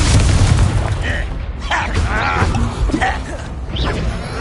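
The Confringo fire spell goes off in Hogwarts Legacy as a loud, crashing blast with rough booms and impacts, while voices talk over the chaotic fight.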